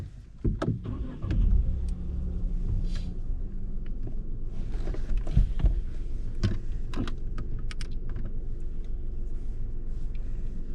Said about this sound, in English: start the car for me, please